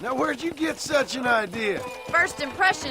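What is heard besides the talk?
No everyday noises stand out.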